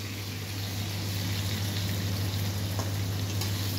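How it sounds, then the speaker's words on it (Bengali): Pumpkin pieces frying in a pan for a vegetable curry, a constant even sizzle close up under a steady low hum, without talk. "কুমড়োগুলো ভালো করে ভেজে নিচ্ছে"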